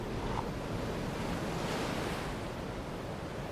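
Ocean waves roll in continuously with a broad, hissing surf and a light wind rumble beneath, holding a constant level throughout with nothing else on top.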